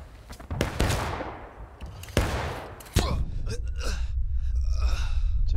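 Several sharp, loud musket shots crack out in Civil War-era combat in the War of Rights video game, separated by short gaps, followed by a steady din of distant battle noise and faint voices.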